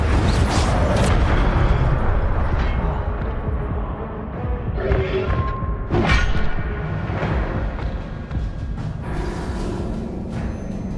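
Incendio fire spell cast in the Hogwarts Legacy video game, loud rushing bursts and booms layered over a dense, continuous wash of combat noise, with sharp flares around the middle of the clip.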